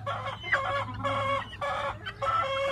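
Young Dome chicken pullets cluck in short repeated bursts, close by and moderately loud, with brief pauses between calls over a low steady background hum.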